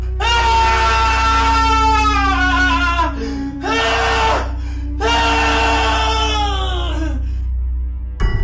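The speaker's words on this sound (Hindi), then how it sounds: "डर के मारे उसकी एक जोरदार चीख निकल गई" A man lets out loud, drawn-out screams of fear in several long wailing bursts with brief breaks, a close and harsh horror-story effect.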